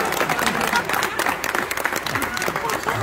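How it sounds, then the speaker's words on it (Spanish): A crowd applauds a man in a dense, steady wash of clapping that runs through the whole stretch, with voices mixed in underneath. "Denle un aplauso al señor"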